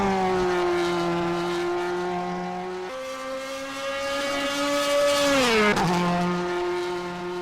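A DTM race car at Spa-Francorchamps drives past with a loud, steady engine whine that steps up in pitch, swells, then drops sharply as it shifts and passes close by, with no talk.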